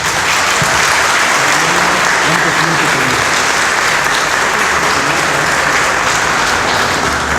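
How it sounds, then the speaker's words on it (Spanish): A church audience applauds a guest speaker, a loud, steady wash of many hands clapping that holds for the whole stretch with little variation. "Vamos a darte otro aplauso."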